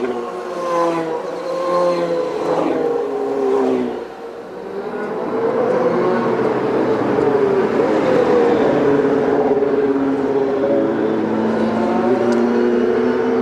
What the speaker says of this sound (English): We've only got 10 cars still running here in Toronto.